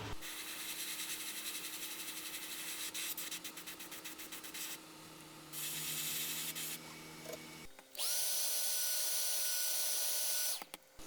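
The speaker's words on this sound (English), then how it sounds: "I'm going to be spraying it all along the belly of the bait, right in this area" Airbrush spraying iridescent scarlet paint along the belly of a large lipless crankbait lure, a steady hissing spray in bursts with short pauses and a compressor hum, close and loud with no talking.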